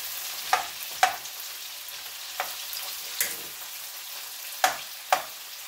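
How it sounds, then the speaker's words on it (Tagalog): Chopped onion sautés in a pan on a stove turned down to low heat, giving a steady soft sizzle broken by about six sharp clicks of a utensil stirring against the pan, close up and with no voices. "Ibigisa natin ang sibuyas."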